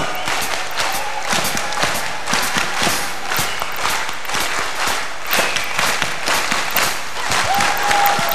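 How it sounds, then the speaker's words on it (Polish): An audience at a jazz concert claps steadily throughout, dense, sustained applause with scattered louder claps and some cheering. "wszyscy klaszczą."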